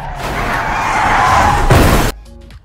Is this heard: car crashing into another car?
yes